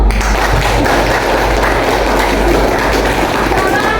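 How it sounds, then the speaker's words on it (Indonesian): An audience in a classroom presentation applauds for a discussion group, a loud, steady, dense clapping that fills the whole stretch without a break. "aplaus buat kelompok 1"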